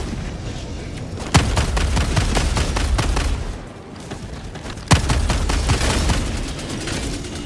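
Sentry turret in Helldivers 2 firing a sustained burst of rapid automatic gunfire, with two sharp louder blasts standing out, close and loud with no talking.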